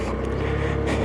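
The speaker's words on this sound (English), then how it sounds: "it's a very quiet engine on this one" Lexmoto OCR 125cc motorcycle engine running steadily and quietly on a hot day, a continuous low hum with wind rush throughout, no talk over it.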